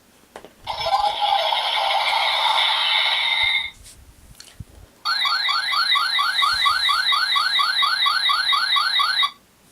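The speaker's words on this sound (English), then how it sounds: "That's the alert sound." A toy morpher sounds its alert: a loud electronic warble that runs about three seconds, breaks off briefly, then returns as a faster pulsing, chirping alarm for about four more seconds, close and with no talking.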